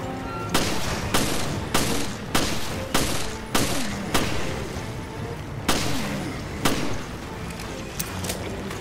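Loud, repeated gunshots in Resident Evil Revelations ring out in a fairly regular rhythm of sharp single cracks, each trailing a short echo, with a brief pause midway.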